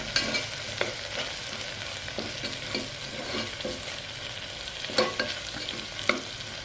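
Mutton kheema frying in a pan with chili powder, coriander powder and turmeric, giving a soft continuous sizzle broken by repeated scraping strokes of a spoon stirring the mince.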